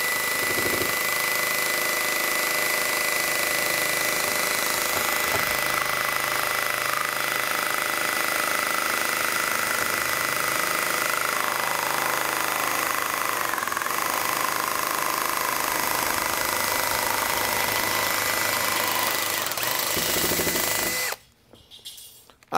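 A drill-powered cutting accessory buzzes continuously while cutting a straight line, a loud, steady high-pitched whine with slight shifts in load that ends abruptly near the close.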